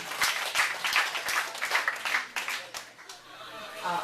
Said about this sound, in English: Big applause for Lizz Huerta.